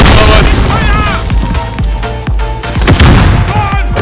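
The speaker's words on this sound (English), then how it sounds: "I'm spamming rockets" Rockets fired repeatedly in the video game Warzone, loud close booms and bursts in quick succession, with people talking over the blasts.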